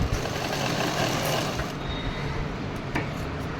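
A sewing machine runs fast and close while stitching elastic onto bell bottom pants, a dense whirring chatter that stays steady and fairly quiet throughout, with faint clicks and no talking.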